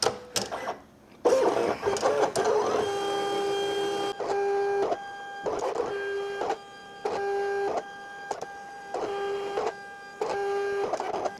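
A label printer printing shipping labels for Etsy orders whirs and buzzes loudly in repeated short bursts with brief pauses between, preceded by a few clicks and handling knocks.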